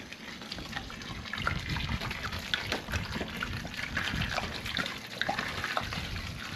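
Water poured and mixed into a very fine concrete mix for a tiny off-grid home build in Hawaii, a steady close trickling and splashing with scattered gritty bursts, no talk.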